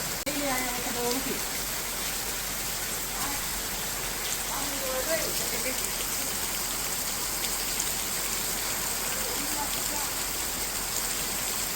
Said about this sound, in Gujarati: તો આવો કંઈક વરસાદ શરૂ થઈ ગયો છે